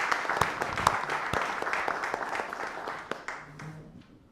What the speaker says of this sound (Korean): 박수로 맞으시기 바랍니다.